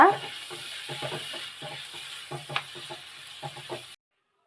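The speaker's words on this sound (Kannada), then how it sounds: "ಮಾವಿನಕಾಯಿ ಸ್ವಲ್ಪ ಫ್ರೈ ಆಗಿದೆ" Grated raw mango frying with onion and curry leaves in a pan, a soft sizzle under repeated rhythmic scrapes and taps of a spoon stirring, close and moderate, stopping suddenly.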